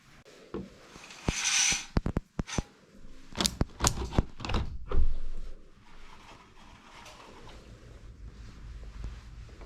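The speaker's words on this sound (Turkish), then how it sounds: "Aç kapıyı" A house door is opened with a series of sharp wooden knocks and clacks of the handle and latch, followed by a rubbing creak and then quiet wind noise outdoors.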